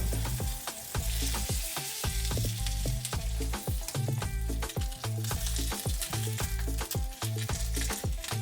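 A quesadilla fries in butter in a pan with a steady, dense sizzle throughout, mixed under a loud rhythmic music track.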